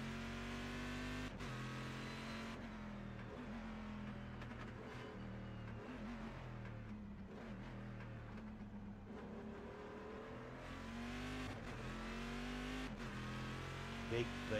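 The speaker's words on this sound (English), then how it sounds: "listen to the crackle, the pop of the Corvette" A Corvette race car in the iRacing sim roars with a deep V8-style engine note, climbing and falling through revs with brief crackles, loud and continuous while voices talk at times.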